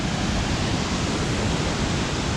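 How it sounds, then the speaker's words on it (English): Ramsey Creek Falls, a South Carolina waterfall, roars as a steady, dense rush of falling water, loud and close with no voices. "after you get done looking at the Ramsey Creek Falls back here"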